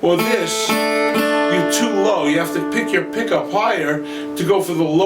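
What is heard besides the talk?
No everyday noise stands out behind the speech.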